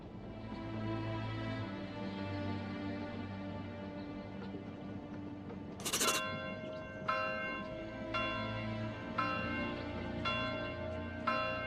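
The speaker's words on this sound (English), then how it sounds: "Love the sound of that bell." A church bell tolls in the medieval city-building game Manor Lords, with several resonant strikes about a second apart over a humming ambient background, clear and ringing with long decays.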